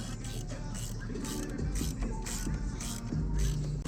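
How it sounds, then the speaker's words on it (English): A ratchet tightens the motor mount and crash bar bolts on a Harley stunt motorcycle, a close run of quick clicking pawl strokes in short bursts, with no voices. "So I just tightened that one super hard."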